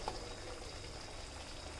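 Brinjal curry for Hyderabadi bagara baingan bubbles gently in a pan over the flame, a faint, continuous simmering sound with no talk.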